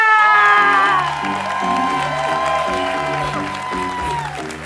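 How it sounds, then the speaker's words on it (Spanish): A comedy club crowd in Miami applauds and cheers as a stand-up comedian is introduced, the clapping and whoops blending under loud walk-on music with a thumping stepped bass line. "un grandísimo aplauso al señor Led Varela."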